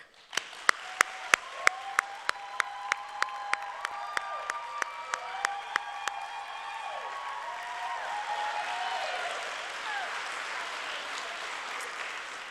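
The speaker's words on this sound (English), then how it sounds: "give them one more round of applause for all the support they've given you this year" Graduation ceremony audience in a hall gives a sustained round of applause for the regional staff, steady crowd clapping building and holding for over ten seconds, with a few sharp nearby claps standing out at the start.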